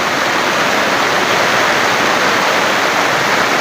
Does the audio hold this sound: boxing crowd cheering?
no